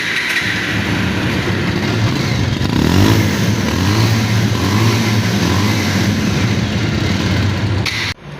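A black Bajaj Pulsar motorcycle engine idles loudly close by, then revs up and down several times with rising and falling pitch before cutting off abruptly.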